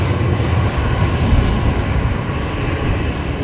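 An airliner takes off from runway 19 left at Brisbane Airport, a loud, steady broadband engine roar rumbling continuously throughout, with no voices.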